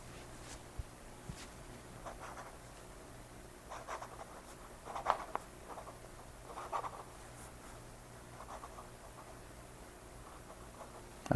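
Montblanc Meisterstuck 149 fountain pen nib writing on paper laid over a towel, giving faint, soft scratchy strokes in irregular bursts against a quiet room hum.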